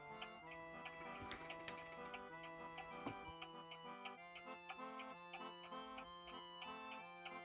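A French antique table clock's pendulum ticks in an even, steady rhythm, crisp and close, with a quiet hum underneath and no talking.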